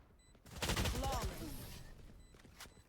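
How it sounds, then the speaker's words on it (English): SMG gunfire during a long-range fight in a video game, a short dense burst of rapid shots with echoing tails, fairly loud and fading over a couple of seconds. "Going into a long-range fight with an SMG."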